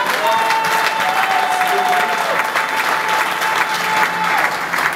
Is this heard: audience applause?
yes